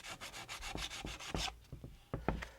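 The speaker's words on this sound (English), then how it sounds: "just going to use some light pressure and sand that down until it's smooth." Rough edges on a part of a DIY drum kit are hand sanded with light pressure: a close series of rhythmic rasping strokes, quicker at first, then slower and more spaced.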